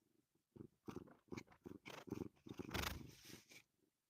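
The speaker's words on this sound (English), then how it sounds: "She is purring." A cat purring softly and close, in rhythmic rumbling pulses that rise and fall with each breath.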